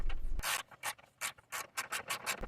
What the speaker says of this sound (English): then you're going to remove the two nuts on the hinge that holds the hood in place